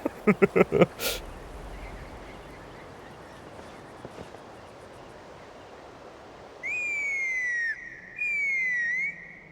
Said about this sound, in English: What a whistle.